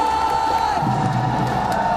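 A large crowd cheers and shouts steadily in a big echoing arena at the PUBG Mobile World Championship grand finals, a continuous roar with a sustained tone ringing through it.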